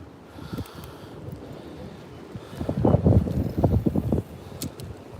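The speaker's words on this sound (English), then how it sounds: "Wind is whipping." Strong wind whips across a river during a fishing trip on big water in Ohio, a rough blustery roar that buffets the microphone and swells louder in gusts midway.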